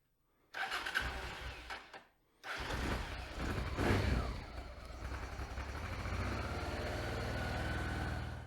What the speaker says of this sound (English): we'll crank it up and let it run for 5 or 10 minutes